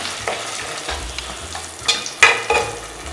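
Batter-coated prawns for prawn Manchurian fry in hot oil, giving a steady close sizzle with a few sharper crackling bursts near the end.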